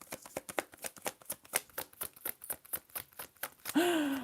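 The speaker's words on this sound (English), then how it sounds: "let me shuffle this one more time" Rapid, rhythmic card shuffling, a steady run of quick riffling bursts up close, ending with a brief vocal sound.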